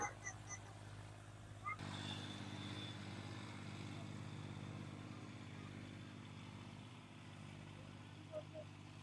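A tractor ploughing a farm field sets up a low, steady engine drone that starts a couple of seconds in and continues, faint and distant.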